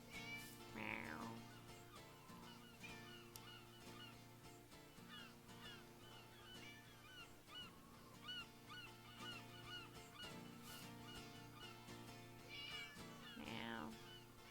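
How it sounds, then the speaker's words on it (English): Repeated cat meows ring out over a steady video game music and ambience bed, loudest near the start and end, with a few other game chirps in between. "The constant meowing"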